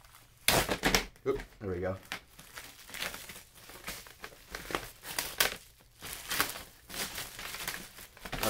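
Plastic wrap crinkles and rustles as it is pulled off a folding organizer, close and irregular bursts of crackling throughout, with a person briefly speaking.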